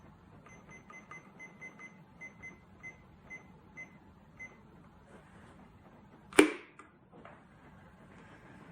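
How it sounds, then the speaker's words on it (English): A kitchen timer used for stamp making ticks softly in an even rhythm for a few seconds, then one sharp, loud clack or ding sounds near the end, followed by a faint knock, in a quiet room. "Turn it over, and I have another timer, so I'm going to set that one for 30 seconds."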